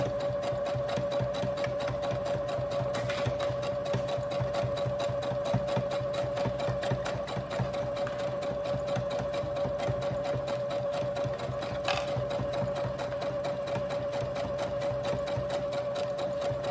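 Domestic sewing machine running steadily as it stitches a baby's shoulder burp cloth, a continuous close whirring motor hum with a fast regular needle rhythm and no talk.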